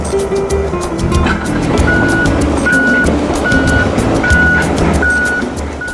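Reversing alarm beeps repeat steadily at a regular interval over the loud rumble of an excavator clearing land and raking flood-washed gravel below a dam, with engine noise and clanking throughout.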